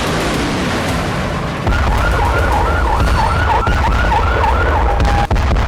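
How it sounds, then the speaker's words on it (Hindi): Air raid sirens wail in Israel, a rising and falling tone sweeping repeatedly over loud, rumbling street noise as Hamas rockets are fired toward Tel Aviv, Sderot and Arad. "23 नवंबर की शाम को ही इजराइल में सायरन गूंजने लगे"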